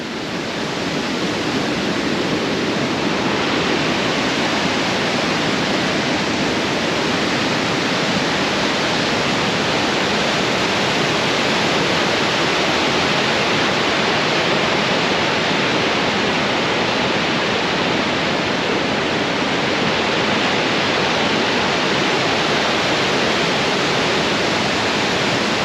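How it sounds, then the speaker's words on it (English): A waterfall roars at the top of Mole Falls, a loud, constant broadband rush of falling water that fills the whole scene without any voices. "here's the top of Mole Falls."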